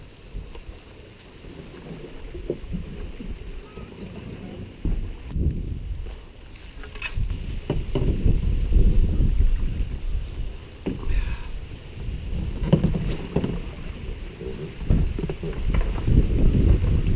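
Wind gusts across open water, buffeting the microphone with a low, uneven roar, along with faint splashes and knocks from a Swift Adirondack Pack 13.6 boat being paddled into the wind.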